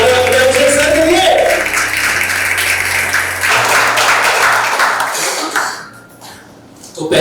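An audience claps loudly and steadily at a school anniversary celebration and parent training event, mixed with music and a voice, then the applause fades out near the end.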